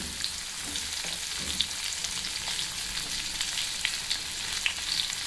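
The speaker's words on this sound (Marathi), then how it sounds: "आता आपण मसाला भरून घेतलेली भेंडी ऑइलमध्ये टाकायची आहे" Masala-stuffed okra (bhindi) frying in oil alongside browned garlic, a dense, even sizzle throughout with scattered small pops and faint stirring.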